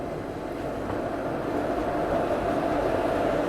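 An Indian train on the Mandsaur–Kota Express route, via Chittorgarh, rumbles steadily as another train overtakes it, a broad continuous roar that grows slightly louder toward the end, with no talking.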